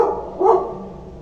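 A pet dog barking indoors at home, one loud, close bark rising out of a steady background hum.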